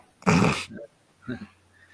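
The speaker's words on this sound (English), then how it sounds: "Damn dogs." A dog at home gives a loud, brief growling bark, then quieter whimpering and grumbling noises after a pause.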